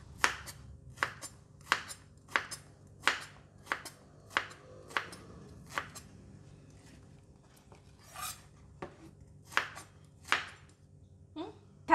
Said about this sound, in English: Let's cut it into bite-sized triangle shapes,